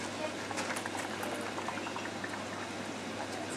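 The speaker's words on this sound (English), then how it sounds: "That's the sound of a pipistrelle bat on one of these bat detectors." Rapid crackling clicks from a pipistrelle bat flying along a hedgerow, picked up on a bat detector, form a dense, steady patter, close and moderately loud, with no talking.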